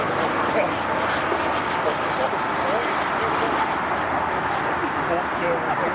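A large RC jet airplane passes by while rolling at a jet rally, its steady turbine roar loud and continuous throughout.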